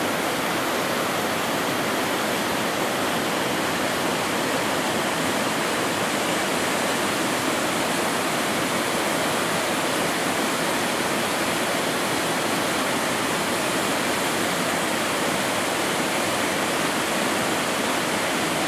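Fotinski waterfalls near Fotinovo village roar with a steady, dense rush of falling water, loud and unbroken throughout with no voices.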